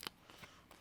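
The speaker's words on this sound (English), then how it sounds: "you're just cutting it out with some very sharp scissors" Sharp scissors snipping through decorative paper for handmade cards, a few quick faint cuts spaced apart, close and quiet with no talking.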